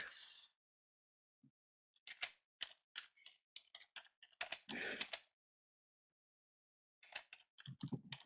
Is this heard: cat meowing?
no